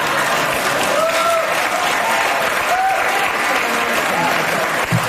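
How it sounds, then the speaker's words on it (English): The studio audience of a daytime talk show claps steadily, a loud, even wash of applause with faint voices mixed in. "Then they clap."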